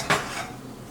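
A metal utensil clinks once against a pan while it is greased for a crepe, a sharp close knock followed by a short softer scrape.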